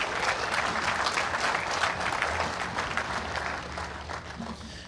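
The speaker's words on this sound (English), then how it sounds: "how about a big round of applause for James and all his crew of hardworking pr" Audience at a UTV, EMC and 4400 drivers' meeting for short course racing gives a steady round of applause, dense clapping sustained for about five seconds at moderate distance with no speech over it.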